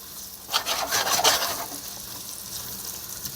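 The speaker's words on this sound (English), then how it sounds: "Quick stir." Homemade tomato pasta sauce stirred briefly in a pot, a soft scraping and bubbling swirl that swells for about a second, then settles into a low simmer with no talking.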